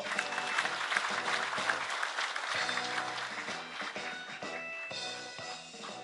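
A hall of union delegates at a national convention applauds during an award ceremony, the clapping blended with loud music playing throughout, fairly distant and steady.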